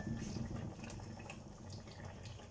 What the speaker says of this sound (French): ça va mijoter tout doucement